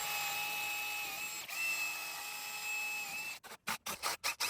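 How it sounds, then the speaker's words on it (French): A power drill boring and countersinking into exotic hardwood decking, a steady high motor whine heard close that breaks into short stop-start bursts at the end. "on perce, on fraise et on visse"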